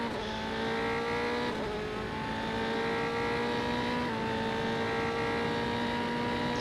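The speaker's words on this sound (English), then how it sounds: "You can hear a car there off in the distance." A race car in the Automobilista sim at the Kansai circuit in an F3 development series, its engine a steady far-off whine with slowly shifting pitch that drones on unbroken throughout.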